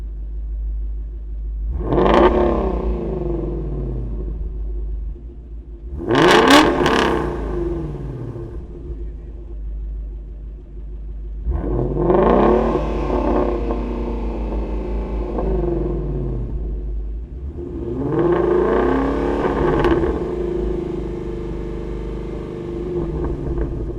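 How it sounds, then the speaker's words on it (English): A Ford Mustang GT350 fitted with long tube headers drives past in repeated waves, its V8 rumbling and revving up through several loud accelerations over a steady low drone, with short quieter lulls between pulls. "I'll leave you guys with some parting shots of just the noise of both of these cars"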